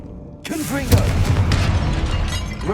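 A Confringo blasting spell goes off in Hogwarts Legacy inside a tomb, a sudden loud burst with crackling, shattering debris and a rumbling tail that fades under a speaking voice.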